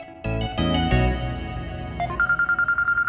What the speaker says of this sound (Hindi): ओह अम्मी की कॉल